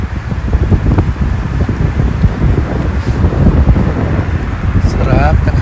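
Strong wind buffeting the microphone outdoors, a loud continuous low rumble with gusty fluctuations, with faint voices underneath.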